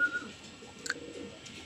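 Racing pigeons coo softly at close range, a short low murmuring call with a faint chirp near the end.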